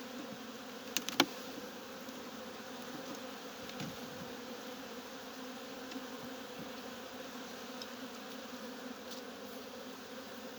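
Robber bees buzzing around a weak beehive in late October, a faint continuous drone of many insects with a few brief sharp knocks near the start.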